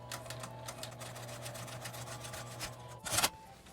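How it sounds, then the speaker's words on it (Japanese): Sewing machine stitching along the zipper seam of a fabric zipper pouch, a steady close motor hum with fine rapid needle clatter running continuously, then a brief louder burst near the end. "最後まで縫います。"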